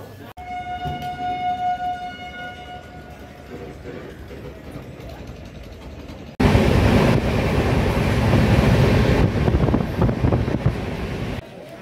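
A passenger train on the Kolkata to Amritsar run rumbles along the rails, at first a quieter rolling hum with a brief tonal whistle, then a sudden loud, dense clatter and roar that continues steadily before cutting off near the end.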